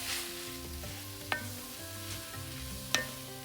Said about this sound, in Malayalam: സബോളയും ഇഞ്ചിയും 5-8 മിനിറ്റോളം വഴറ്റി